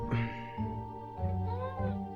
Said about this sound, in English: That cat is so annoying.